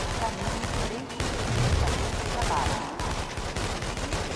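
Rapid bursts of gunfire crackle continuously in the video game inFAMOUS Second Son, dense and overlapping, with game-like ambience and faint voices underneath.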